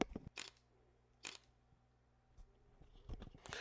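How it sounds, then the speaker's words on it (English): Panasonic Lumix S1-series mirrorless camera shutter firing, a few crisp mechanical clicks close to the mic: two separate snaps, then a quick cluster near the end, in a quiet room. "And then the Lumix shutter sound"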